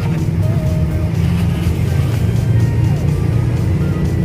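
A Kawasaki Ninja R motorcycle fitted with an aftermarket Etek exhaust runs at a steady, loud, throaty idle, a continuous deep rumble heard up close with no talk.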